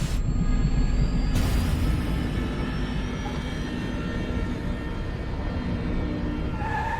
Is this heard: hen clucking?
no